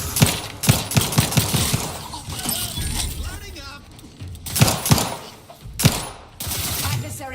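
Video game gunfire crackles in rapid bursts with sharp, close shots, some clusters dense like automatic fire and a few louder isolated blasts, while voices and game dialogue speak between and over the shooting.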